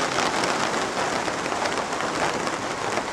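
Steady rain pours down on a Cotswold garden, a dense, even hiss of drops hitting a surface with no pauses or voices throughout.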